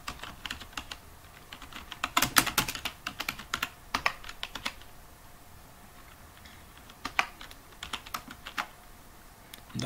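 Fingers type on a computer keyboard during Urdu InPage composing, soft quick key clicks coming in bursts with brief pauses, fairly quiet and close.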